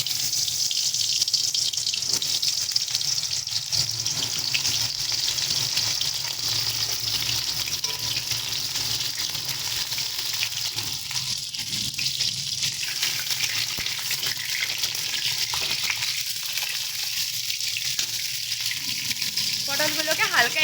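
Pieces of pointed gourd (potol) fry in hot mustard oil in a home kitchen, giving a continuous soft sizzling hiss that stays steady and moderately quiet throughout, with no voices.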